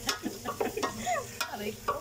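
Chicken pieces for adobo sizzle gently in a pan, with scattered scrapes and clinks as they are stirred, fairly quiet and close.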